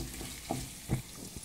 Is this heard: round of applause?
no